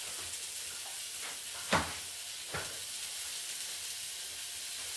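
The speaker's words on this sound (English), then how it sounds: "as you can hear it sizzling" Food sizzles steadily in a frying pan, a constant crackling hiss, with a couple of faint knocks from utensils.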